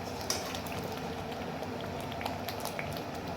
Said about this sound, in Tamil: இது வந்து ஒரு கொதி கொதிச்சாலே போகிறோம்.